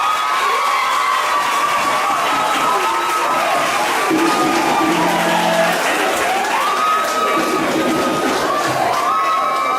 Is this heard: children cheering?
yes